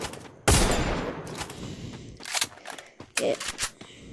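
A loud burst of gunfire in a shooting video game, followed by several more scattered shots at medium distance, with quieter ambient game noise between the bursts.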